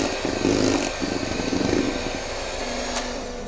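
Electric mixer whirring as it beats melted dark chocolate into cake batter for a chocolate mousse cake, a steady motorized drone with slight shifts in pitch as the beaters work the mixture.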